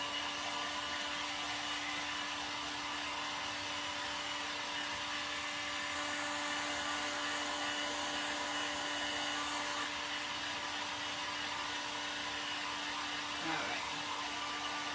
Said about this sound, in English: keep maneuvering your heat tool because you don't want it to, you know, burn and melt your fabric